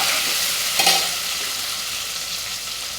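Onion, green chilli and ginger sauté in a pan with a constant, close hiss of oil, one brief stir or clink early on, then an even sizzle to the end, no voices.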